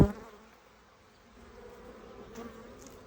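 Low, faint buzzing of honey bees during a hive inspection, a soft steady hum following a brief knock at the start.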